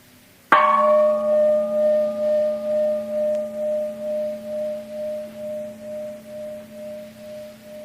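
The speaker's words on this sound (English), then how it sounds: "If you, for example, simply listen to the gong," A gong is struck once, giving a sharp attack that blooms into a long, pulsing, slowly fading metallic drone heard alone.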